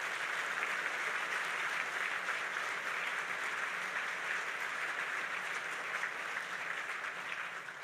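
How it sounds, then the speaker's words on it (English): An audience at the 2020 State of the Coast Guard address gives a round of applause, steady, even clapping from many hands that holds for about eight seconds before easing slightly at the end. "Let's recognize her incredible contributions with another round of applause"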